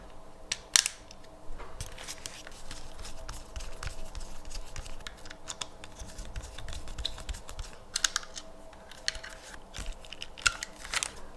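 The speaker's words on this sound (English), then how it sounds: "We just have to make sure we screw them back inside." Small screws being driven back into a PS5 controller faceplate: a steady run of light, close clicking and ticking, sharper taps near the beginning and toward the end, with no talking.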